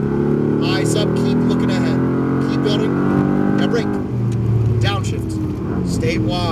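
A Mercedes-AMG GT R on a Las Vegas track drops through gears under hard braking, its loud engine note stepping and sweeping in pitch with crackling blips, heard from inside the car with an instructor's voice talking over it.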